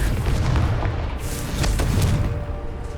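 The Confringo spell in Hogwarts Legacy blasts with a deep, rumbling explosion that rolls on for a few seconds, loud and low-heavy, with a second swell of boom partway through and no voices.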